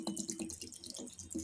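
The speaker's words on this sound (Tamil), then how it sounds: "தண்ணி ஊற்றிடலாம்." Water pours into a cooking pot holding ponnanganni keerai (water amaranth greens) and lentils, with turmeric powder and salt already added, making a steady close splashing and trickling with a few soft drips and no talk.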